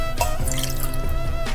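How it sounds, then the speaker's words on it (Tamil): Water is poured from a tumbler into a pressure cooker vessel while proso millet is prepared for steaming, making a steady close splashing and gurgling with brief drips, and no one talking. "3 டம்ளர் தண்ணி இதுக்கு விட்டுருக்கேன்."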